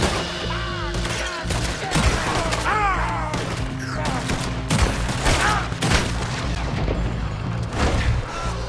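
Gunfire in Red Dead Redemption 2: a sustained fusillade of rifle and pistol shots cracks repeatedly over a droning musical score, with scattered booms and impacts.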